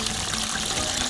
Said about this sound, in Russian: Ага, здесь есть родник.